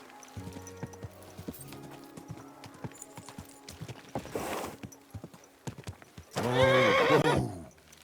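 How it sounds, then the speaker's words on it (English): In the video game Kingdom Come Deliverance 2, horse hooves clop steadily at a walk, then a loud, close neigh rings out near the end. "Easy, good horse."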